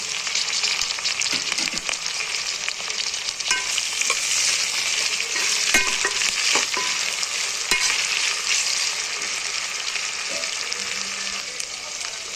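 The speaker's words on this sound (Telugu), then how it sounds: "ఇంకైతే ఇందులోనే టమాటాలు వేసేసుకోవాలి." Tomatoes fry in a curry base and are stirred: a steady, close sizzle with scraping stir strokes running throughout and no talking.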